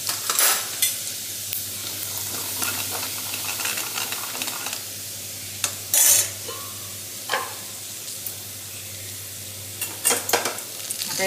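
Garlic, cumin and a spice mix fry steadily in a pan, a continuous close sizzle with scattered scraping stir clicks and a few louder bursts; no one speaks.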